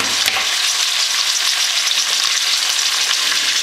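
Garlic fries in a hot pan for Dominican-style pinto beans, a steady loud bright sizzle with faint stirring scrapes running throughout, no voices.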